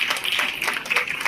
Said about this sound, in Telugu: అందరూ ఒకసారి గట్టి క్లాప్స్ కొట్టండి